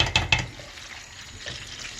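A tablespoon of butter melts in a pan with a soft, steady sizzle and a few brief clicks near the start.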